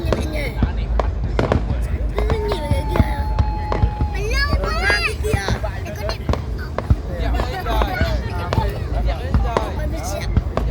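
Fireworks mark the 190th anniversary of Thanh Sơn District in Phú Thọ, Vietnam. Dense, repeated bangs and crackling bursts continue throughout while nearby people talk over them.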